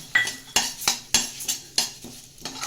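Freshly roasted spices for sambar powder are moved into a vessel with a metal spoon, giving a steady series of about seven sharp clinks and scrapes against the pan, with no talking.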